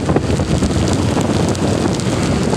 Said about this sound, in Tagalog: Ayan, lumalakas na talaga ang ulan.